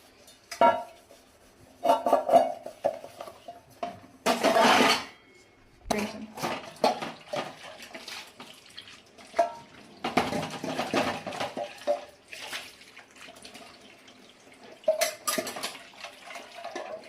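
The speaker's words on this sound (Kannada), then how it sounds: "ಪಾತ್ರೆ ತೊಳಿತೀನಿ ನೋಡಿ" Dishes being washed by hand under running water in a home kitchen, with scattered clinks and clatters of utensils and pots over a steady trickle of water, some bursts louder, nearby, no talking.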